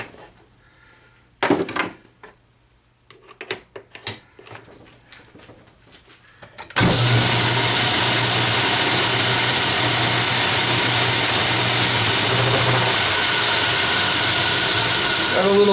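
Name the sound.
lathe cutting a bevel for weld prep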